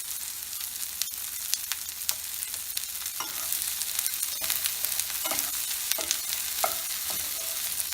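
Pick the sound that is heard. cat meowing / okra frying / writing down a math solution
okra frying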